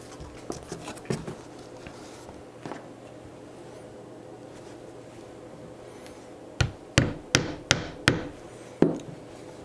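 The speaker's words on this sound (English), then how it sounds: "I've got to get my stone back over here and punch those holes again" A hand punch is struck with a mallet to cut holes in leather for a holster, first a quick run of light taps, then a quiet pause and a cluster of five or six sharper, louder blows in a steady rhythm.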